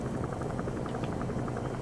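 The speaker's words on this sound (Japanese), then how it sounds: "おー、ヘリも飛んでるし" A helicopter in Metal Gear Solid V: The Phantom Pain, its rotor giving a steady, dense thumping drone that holds at an even level throughout, with no talk over it.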